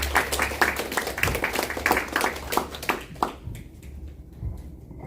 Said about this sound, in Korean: 큰 환영의 박수 드리겠습니다